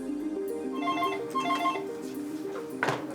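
A mobile phone rings with a melodic ringtone for an incoming call from a fake bank representative, repeating its short pattern for a few seconds in a quiet room.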